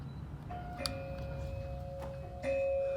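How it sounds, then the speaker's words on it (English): An old ceramic doorbell gives two soft, bell-like chimes about two seconds apart, each leaving a clear sustained tone over a low background hum. "let me show you the original doorbell"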